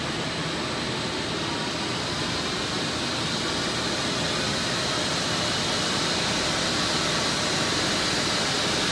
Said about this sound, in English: As you can see, pump 2 shut down and pump 1 is now ramping up to build the pressure back up